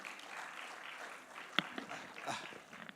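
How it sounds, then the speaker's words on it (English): An evening event audience claps for a guest speaker, a soft, fairly distant patter of applause with one sharper clap standing out partway through. "A round of applause for him."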